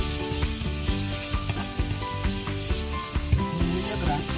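Tempe orek, Indonesian sweet soy tempeh, sizzles and crackles steadily in a hot pan while it is stirred, with a scraping spatula tapping in irregular strokes. No one speaks.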